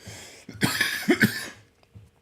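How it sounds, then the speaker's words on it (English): Several quick, close coughs burst out in a short cluster, then fade to near silence. "I'm going to cough again."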